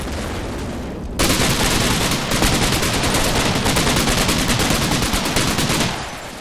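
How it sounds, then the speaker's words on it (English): PPSh submachine guns firing in the Combat Mission: Red Thunder war game, sustained rapid bursts of loud, crackling automatic fire that kick in abruptly and rattle on for several seconds before tapering off. "we've got the Pepesha submachine gun at our disposal"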